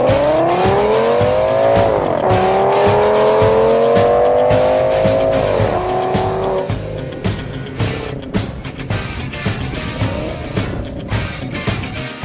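Loud roaring engines of race cars in a heat race, rising and falling as they speed around the track, with tires scrabbling and cars passing close by.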